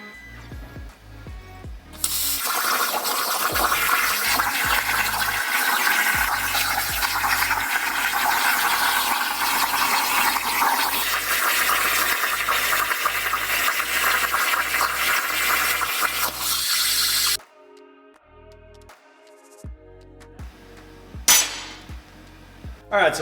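A Langmuir Crossfire XL plasma table cuts metal with a loud, steady hiss and roar that runs for about fifteen seconds, then stops abruptly, leaving quiet background noise and a few later clicks.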